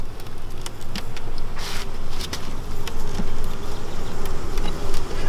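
Honeybees buzz around an opened beehive after smoking, a dense, steady insect hum with scattered louder fly-bys close to the recorder, continuing without talk.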